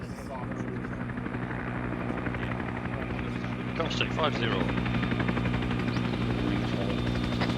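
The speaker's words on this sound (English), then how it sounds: "Are we getting on that chopper, boys?" Steady, close helicopter rotor drone in a military video game, constant and loud across the whole stretch, with radio chatter and talking over it.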